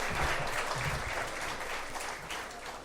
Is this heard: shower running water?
no